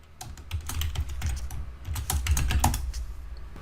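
An email and password are typed on a computer keyboard, making a close, quick, uneven run of light key clicks that continues steadily, with no talking.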